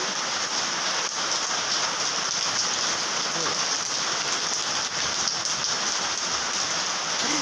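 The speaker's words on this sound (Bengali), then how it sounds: "এরকম বৃষ্টি হচ্ছে, খুব বৃষ্টি হচ্ছে" Heavy rain pouring steadily, a dense continuous hiss of drops on surfaces, close and loud with no break.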